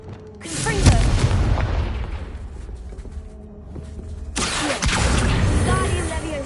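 A Confringo blasting spell explodes in the Hogwarts Legacy game, a loud booming burst followed by rumbling debris, then a second heavy blast near the end, with game voices faintly under it.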